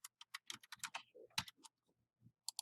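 A file name goes in on a computer keyboard with a quick run of crisp, close keystrokes, then a short pause and two final key taps, with nothing else audible.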